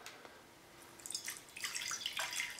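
Water is poured to fill a seed-starting tray for bottom watering, a faint, soft trickle and splash that builds over a couple of seconds, quiet and alone.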